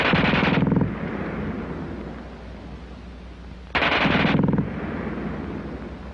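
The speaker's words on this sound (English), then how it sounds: "the German gun fires faster than anything you've run into before" A German automatic machine gun fires two long, very rapid bursts, the first at the start and the second after a pause of about three seconds. The fire is loud and close, with a rumbling echo trailing off after each burst.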